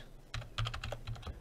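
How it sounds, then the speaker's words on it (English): Keys tapped on a computer keyboard in a quick, uneven run of soft clicks, close and fairly quiet. "here we're going to type in get distance"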